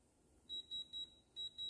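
Electronic diamond tester sounding on a real diamond during a jewelry unboxing: five short, evenly spaced high-pitched beeps in two bursts, clear and close against a quiet room.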